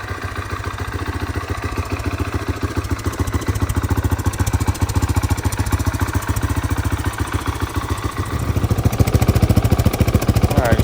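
A 2023 Gas Gas 700 SM motorcycle engine idles steadily up close, a rapid even thumping with a slight rise in loudness near the end, no talking.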